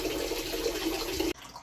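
Water drains from a well pressure tank with a failed bladder into a bucket, a steady close gush that cuts off abruptly near the end and leaves only faint background.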